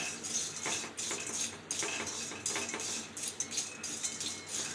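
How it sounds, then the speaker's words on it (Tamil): Semolina (rava) dry-roasting in a pan for Maggi kesari, a metal spoon scraping and clinking steadily against the pan in quick, irregular strokes, close and fairly quiet with no voices. "நம்ம ரவை வறுக்கிறோம் இல்லையா"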